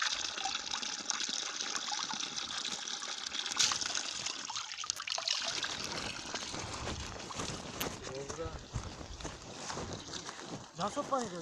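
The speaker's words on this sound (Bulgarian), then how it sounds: "Виж откъде минава водата и как няма да има мръсоти." Spring water runs and gushes steadily through the clip on an outdoor walk, with people talking over the flow.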